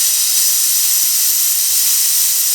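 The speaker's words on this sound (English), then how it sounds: "So let's see how much steam we can get out of this." A strong, steady hiss of steam blasting from an ironing station iron, loud and continuous without a break.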